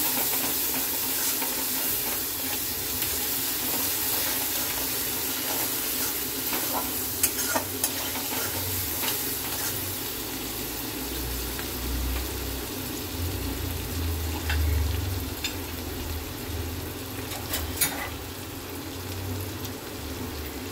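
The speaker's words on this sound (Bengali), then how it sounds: "পেঁয়াজটা এবারে ভালো করে ভাজবো।" Onions, sweetened with a little sugar, fry in a pan with a continuous loud hissing sizzle, accompanied by occasional scraping and stirring knocks over a low rumbling background.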